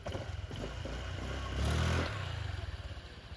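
A Honda Click 125i scooter engine is blipped once, its idle putter rising into a short, close rev that peaks and then falls back to a steady, pulsing idle; no one speaks.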